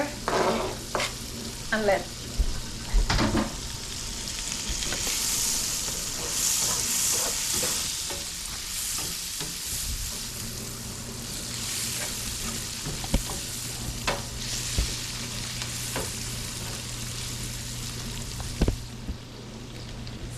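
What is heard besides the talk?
onion sautéing in butter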